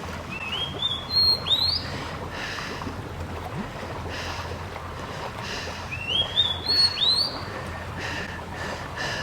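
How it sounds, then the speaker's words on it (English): Birds chirp in short rising bursts over a steady outdoor hiss, with a couple of chirping spells in the background and no voices. "Don't you love the sound of the birds?"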